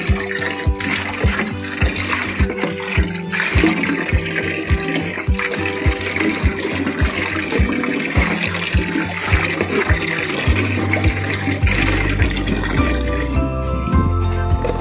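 Water gushes and splashes steadily inside an old glass aquarium tank as it is soaked. A loud, continuous wash of flowing water carries a rapid pulsing rhythm.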